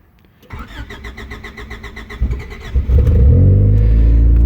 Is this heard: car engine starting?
yes